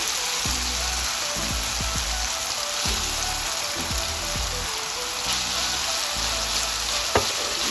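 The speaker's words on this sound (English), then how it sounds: "it's time for me to add my chopped carrots so that you can fry along with the tomatoes" Chopped carrots and tomatoes fry in a pan with a steady, loud sizzle, broken by scattered stirring knocks and clatters and one sharp clack near the end; no one speaks.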